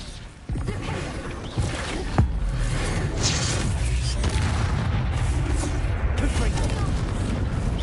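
A booming Bombarda spell explosion from the Hogwarts Legacy video game erupts with a heavy low crash, followed by sustained rumbling debris and crackle, loud and close, with a voice audible over it.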